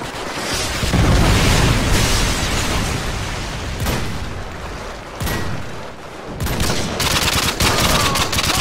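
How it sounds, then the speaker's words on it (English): A predator missile strikes during a Modern Warfare 2 battle: loud, dense rumbling blasts merge with constant rapid gunfire, forming a thick, chaotic wall of combat noise with sharper bangs breaking through. "Friendly predator missile inbound."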